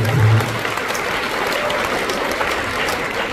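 Audience applause fills a college talk in Sangamner: a dense, steady clapping crowd, loud and sustained throughout, with a slightly stronger burst at the start.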